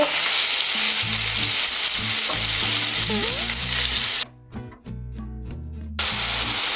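Food frying in a hot pan, a loud, continuous sizzle and hiss over a repeating low musical backing, briefly dropping away before resuming at full strength.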